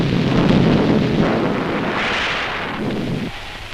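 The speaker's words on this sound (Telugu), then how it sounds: "అయ్యో, వర్షం వచ్చేలా ఉంది." A deep rolling thunder rumble mixed with a steady hiss of rain, loud and continuous, fading slightly toward the end; no voices are heard.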